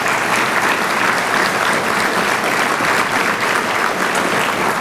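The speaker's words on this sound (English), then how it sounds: "One more big round of applause for the entire instructor staff." An audience at a Firefighter 1 graduation ceremony in Dutchess County, New York claps in sustained, even applause that fills the room at a steady loudness for the whole stretch.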